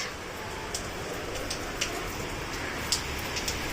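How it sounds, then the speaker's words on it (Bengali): Steady rain pours outside a home, a dense, even hiss with scattered louder drops and splashes, continuous throughout with no talk. "বৃষ্টি নেমে গেছে আমার ঘরেও জল ঢুকে যাচ্ছে"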